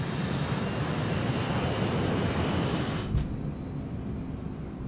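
A test aircraft roars down a runway and lifts off at rotation speed, a loud, continuous broadband engine rush filling the scene, with a brief bump near the end as it climbs away.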